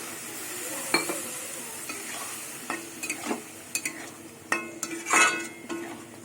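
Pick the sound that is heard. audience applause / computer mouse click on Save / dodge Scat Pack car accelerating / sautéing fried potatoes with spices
sautéing fried potatoes with spices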